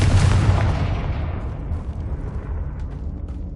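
A Confringo spell explosion in the video game Hogwarts Legacy: a loud, close boom that fades slowly into a long, rumbling decay with nothing else heard.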